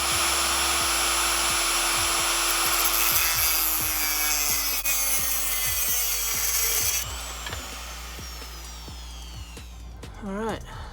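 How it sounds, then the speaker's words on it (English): An old fuel hose is cut off on a BMW M3 E90/E92/E93: steady, close rasping strokes repeat in a quick regular rhythm over a constant low hum, ending in a brief squeal. "So what I'm going to do is cut off this hose"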